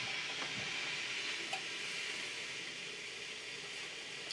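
An overfilled steam iron purges itself, hissing and sputtering with a continuous steamy rush and occasional small pops, steady and close, no voices.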